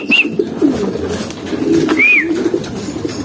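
Racing pigeons coo and flutter at a loft landing board during summer training in San Fernando, Pampanga, with soft repeated coos close by and a couple of brief high chirps over steady outdoor background noise.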